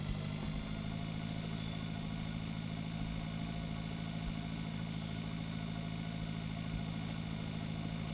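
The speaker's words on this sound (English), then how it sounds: "All right, come on, tractor." A tractor engine in the farming game Pure Farming 2018 drones at a steady mid-pitched rumble, constant and even throughout with no change in revs, heard alone without voices.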